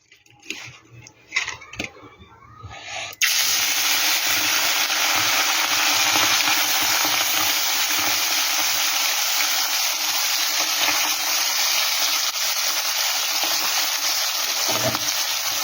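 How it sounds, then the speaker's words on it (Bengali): Mourala fish fry in hot oil in a wok: a loud, dense, steady sizzle bursts in suddenly after a few seconds of quiet, faint handling and continues unbroken to the end. "এবার মাছগুলো আমি ভেজে নেব"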